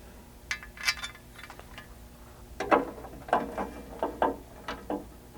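Button head bolts are tightened into nut plates while a tailgate table is fitted to a Jeep JK Wrangler, giving sparse metallic ratcheting clicks that come in short close bursts with pauses between them.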